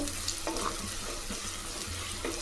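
Crushed garlic and ground masala sauté in oil for a spicy oil-brinjal curry, making a soft continuous sizzle with faint stirring scrapes, quiet and close, with no voices.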